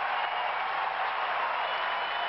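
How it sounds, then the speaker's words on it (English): Wimbledon crowd giving Barry Cowan an ovation after his five-set match against Sampras, a broad, steady wash of applause and cheering, loud and sustained without pause. "The ovation is for Barry Cowan, who takes Sampras to 5 sets."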